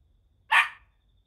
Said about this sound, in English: I guess you can hear a dog barking